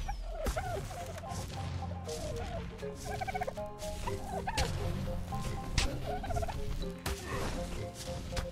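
A bird creature attacks in the video game Ark Survival Evolved, giving repeated turkey-like gobbling calls in quick bursts over a busy, steady game soundscape with sharp impacts.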